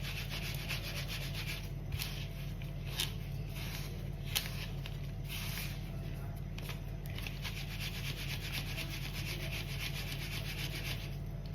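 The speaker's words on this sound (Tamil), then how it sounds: "அதே மாதிரி மிச்சம் இருக்கிற எல்லா மாவையும் போட்டு சலிச்சு எடுத்துக்கலாம்." Ragi flour being sifted through a sieve, a dry rhythmic rubbing and tapping texture with occasional sharper knocks, steady and fairly close, with no voices.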